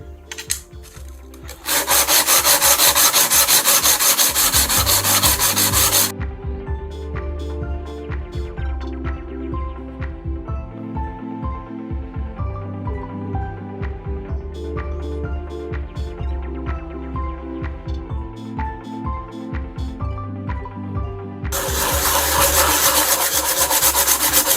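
Wood being sanded and filed by hand during a small craft repair, a steady rough rasping scrape in repeated strokes, loud and close, with a harsher burst of abrasion at the start and end.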